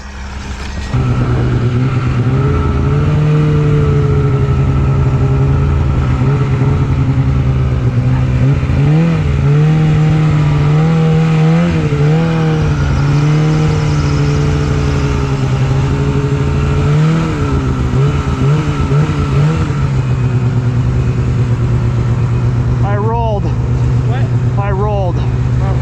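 Snowmobile engines, one of them an RMK, revving steadily while riding over snow, a loud continuous drone with rising and falling pitch throughout, close up and dominating, with voices faintly mixed in.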